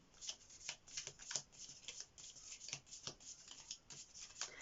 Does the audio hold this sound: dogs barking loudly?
no